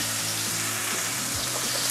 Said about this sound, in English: we're going to fry this in the wok